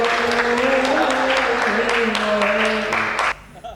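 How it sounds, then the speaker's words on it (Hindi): An audience at a comic poetry recital breaks into applause, a dense, sustained clapping that runs for about three seconds under a voice speaking over it before cutting off sharply. "एक बार जोरदार तालियां बजाइए।"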